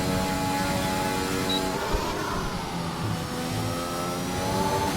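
A papaya McLaren race car in a racing video game, its engine note holding a steady mid-pitched drone with slight shifts in revs, heard close and alone with no talk.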